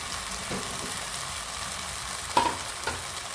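Capsicum sautéing in a pan for pav bhaji makes a steady, moderate sizzle, with a couple of brief scrapes from a spatula stirring it.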